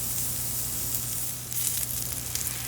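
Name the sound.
pork loin steak searing in cast iron pan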